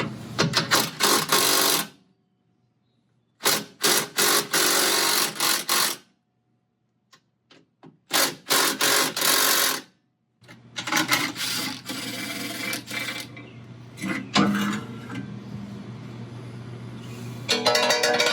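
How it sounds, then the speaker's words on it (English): Impact wrench hammering out 18 mm driveshaft bolts on a Jeep front driveshaft, several loud close bursts of rattling impacts separated by silent pauses, the last longer run ending in lighter clatter. "It's an 18 millimeter with my impact wrench."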